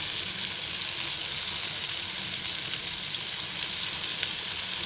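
Stuffed capsicums fry in hot oil, a loud, even, hissing sizzle that runs close and unbroken throughout, with no voices.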